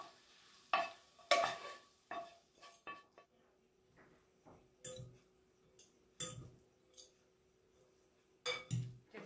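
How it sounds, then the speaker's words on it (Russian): Fried ingredients for rice noodles being stirred in a pan, a series of separate clinking, scraping strokes with short pauses between them over a faint sizzle, close and quiet. "Сейчас я добавляю все, что мы жарили, все наши ингредиенты,"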